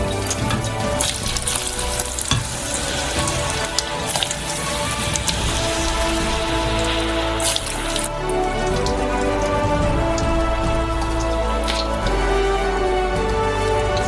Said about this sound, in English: Preheat the fryer to 170 degrees, and throw in the potatoes.